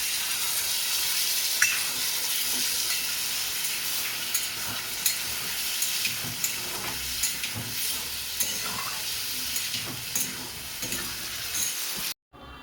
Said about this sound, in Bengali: মশলার জলটা দিয়ে কষাবো।